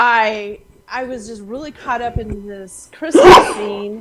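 A single sharp sneeze bursts out near the end, close and loud, right after a person speaking.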